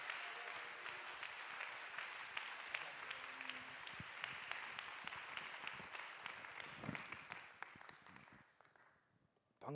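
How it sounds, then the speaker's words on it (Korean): A church congregation at a Sunday worship evangelism festival applauds in a sustained, steady wash of clapping that holds for several seconds, then thins and fades out near the end. "크게 박수하시겠습니다."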